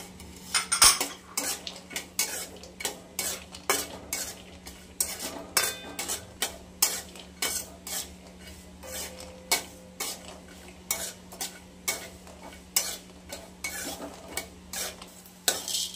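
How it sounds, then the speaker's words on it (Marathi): Semolina is roasted in ghee in a pan over low heat while a spoon stirs and scrapes it, producing regular metallic clinks and scrapes over a faint sizzle, with no talking. "बारीक गॅसवरच मस्त असं भरपूर भाजायचं"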